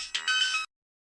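A mobile phone ringtone plays in a Tamil thriller short film, a bright electronic melody that chirps for about half a second and then cuts off into silence.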